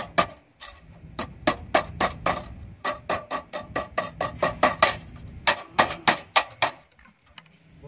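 Galvanised iron sheet being hammered by hand along a duct seam, a steady run of sharp metallic strikes, about twenty blows in quick rhythm with a short pause midway, close and loud.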